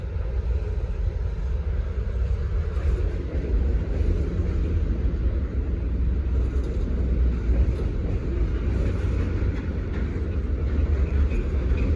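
A Herzog train on the Norfolk Southern Charlotte District passes close by as a continuous, heavy low rumble and rolling roar, steady and loud for the whole stretch, with no voices.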